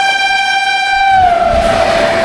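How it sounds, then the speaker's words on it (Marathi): A MEMU local train arriving at Manmad junction sounds a loud, sustained horn blast that sags in pitch as the approaching train's low rumble swells underneath. "मुंबईची लोकल असते ना तशी इथली मेमो आहे."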